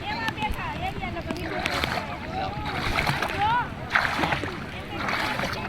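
Water splashing and sloshing in the sea off Minicoy Island, Lakshadweep, as a beginner in a life vest tries to swim, with voices talking over the continuous watery churn.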